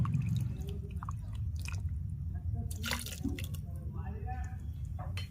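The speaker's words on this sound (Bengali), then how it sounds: "এই জলটা মিক্সির জারের মধ্যে দিয়ে জারটাকে ধুয়ে আমি নামিয়ে নেব।" Water is swished around inside a mixer grinder jar to rinse it and then poured out, making soft sloshing and dripping sounds close by with a faint voice underneath.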